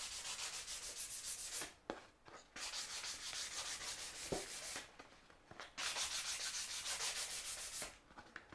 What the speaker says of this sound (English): So I'm just going to sand up the edges a little bit.